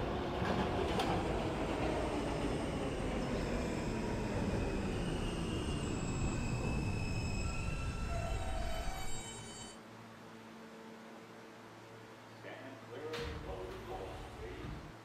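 A New York N subway train rumbles along the tracks, loud and clattering as it slows, then drops to a quieter hum at the platform while an announcement voice speaks.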